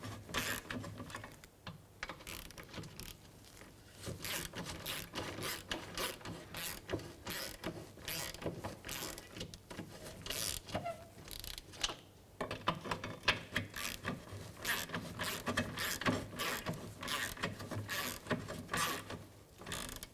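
A ratchet tightens the rear sway bar bushing bolts on a 2002-2006 Nissan Altima, giving close, rapid bursts of metallic clicking that repeat steadily throughout, with no talking.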